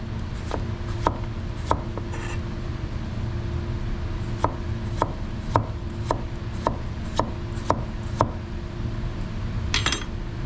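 A Yaxell Zen santoku knife slices through a soft cucumber on a board, giving about a dozen crisp, evenly spaced taps against a low steady background hum. The cuts are close, with no talking.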